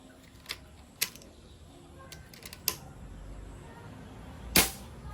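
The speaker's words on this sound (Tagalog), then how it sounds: "Putok. Yan, napakahina lang, no." A Phoenix multishot PCP airgun fires several quiet, sharp snapping shots spaced unevenly, with faint mechanical clicks between them and one louder final shot.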